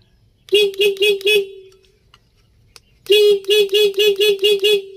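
A car horn, tested after soldering its steering-wheel contact, honks in two bursts of rapid short beeps, four quick toots, a pause, then about seven more, loud and close.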